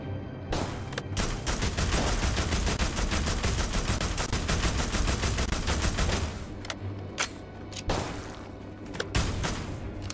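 Gunfire in the video game The Walking Dead: Destinies, a dense, loud stream of rapid automatic shots that rattles on for several seconds, then breaks into a few separate sharp single shots.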